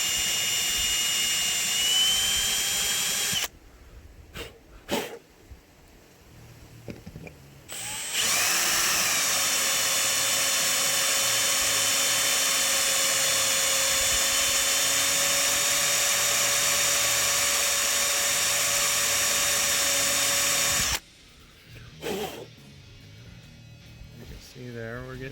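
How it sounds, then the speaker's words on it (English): A power drill whines loudly and steadily for long stretches, drilling out a broken bolt from a car's rooftop antenna mount with light pressure, stopping briefly between runs, with quieter pauses and faint handling noises in the gaps. "we're just going to take it nice and easy and not put a lot of pressure on the drill"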